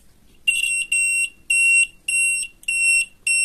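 A cheap electronic reversing siren, just connected to a power source, sounds a repeating series of shrill high beeps in an even on-off rhythm, close and loud with no talk.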